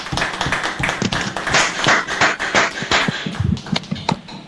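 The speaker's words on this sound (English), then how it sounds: "Another round of applause for him, please." Scattered applause from a small workshop audience, uneven and sparse claps rather than a full roar, lasting several seconds before thinning out at the end.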